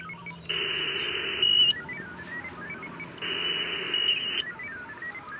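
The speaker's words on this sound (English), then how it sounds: "Should be able to hear my signal going out." A ham radio digital modem transmitting from an RV antenna setup: two bursts of steady, buzzing tones separated by a pause, with chirpy stepped beeps over faint static.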